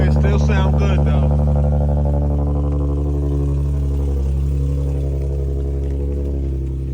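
Loud, close engine rumble from a tuned Infiniti G37, holding steady and then easing off gradually, with a brief raspy burst near the start.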